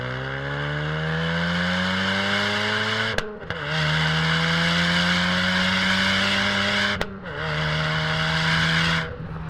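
A Ford Mustang EcoBoost (S550) with a Borla cat-back exhaust revs loudly three times in a row, each long droning pull rising in pitch before a sharp cut, close and unaccompanied.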